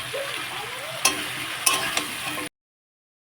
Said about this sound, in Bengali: বেগুন আলুগুলো কিন্তু দিয়েই আমি একটু নাড়াচাড়া করে একটু লাল লাল করে ভেজে নেব